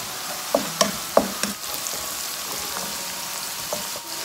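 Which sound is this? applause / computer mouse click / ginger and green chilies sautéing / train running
ginger and green chilies sautéing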